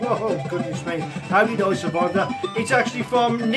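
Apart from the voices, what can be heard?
None of the usual background noises is heard.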